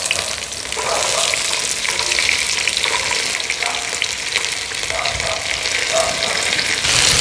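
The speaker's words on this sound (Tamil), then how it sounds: "இப்போ வந்து வெங்காயத்தை போட்டுக்க போகிறீங்களா வெங்காயத்தை போட்டுக்க போகிறோம்" Small onions frying in hot oil with tempering spices for moringa flower rice, a loud, steady sizzle close up with occasional stirring scrapes.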